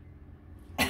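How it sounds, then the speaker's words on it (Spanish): A single short, sharp cough right at the end of a quiet kitchen moment, set off by chile fumes while a beef and red chile sauce is being cooked. "Porque siempre el chile hace toser."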